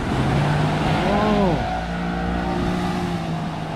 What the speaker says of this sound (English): Engine start now.